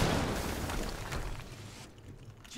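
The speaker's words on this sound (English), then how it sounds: "We just heard an explosion near the harvesting perimeter." A loud, rumbling in-game explosion from the Quantum Break video game, a broad sustained blast of noise that slowly fades over a couple of seconds, with no talking.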